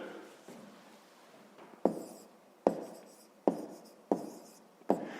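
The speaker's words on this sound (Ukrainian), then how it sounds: "давайте тоді запишемо" Pen strokes on paper during a long-division exercise, a faint scratching bed broken by five sharp taps or strokes at roughly regular intervals, close and fairly quiet, with no talk.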